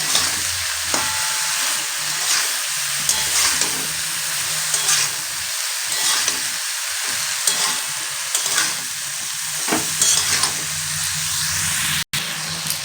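Fish tossed with salt and turmeric in a hot oily pan for a Bengali fish-oil dish, a steady frying sizzle under repeated scraping stirs, close and fairly loud, with no talking.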